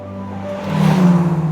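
A loud sports car engine revs hard, building from a steady growl into a stronger, rising roar over about a second and a half, close and alone.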